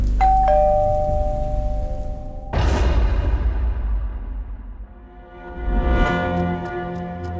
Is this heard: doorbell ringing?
yes